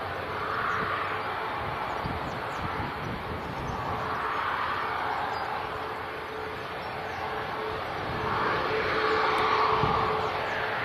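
An airliner bound for Girona, Spain taxis around the loop at Leeds Bradford Airport, its jet engines making a steady, moderately distant whine and rumble that swells and fades over about eleven seconds, with no talking.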